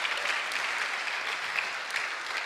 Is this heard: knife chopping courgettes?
no